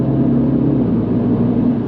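A 2024 Mini JCW (F56 LCI 2) hatchback drones loudly and steadily from inside the cabin as the engine pulls through corners, an even low rumble without a distinct gear change.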